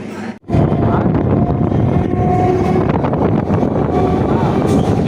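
Passenger train running from Belur to Howrah, a steady loud rumble and clatter of the carriage in motion with wind noise, continuous after a brief dip at the start.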